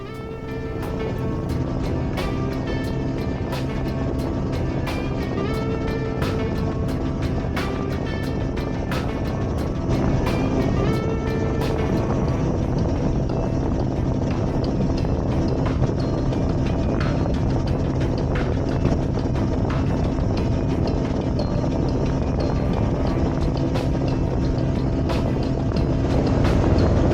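Boat cruising across Mearns Dam, a steady loud motor drone with a constant low rumble and some water noise, continuous throughout and close.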